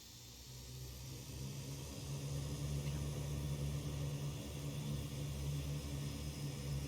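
Turboprop engine of a Fairchild Metro II starting in the X-Plane 11 flight simulator, a low steady hum that swells gradually and then holds a constant drone, quiet and without talk.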